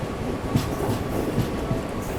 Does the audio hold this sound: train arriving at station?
yes